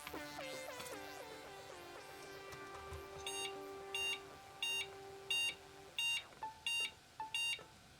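A series of short, evenly spaced electronic beeps from a 286 computer motherboard's POST beep code, about eight in a row, sounding after a busy stretch of overlapping tones.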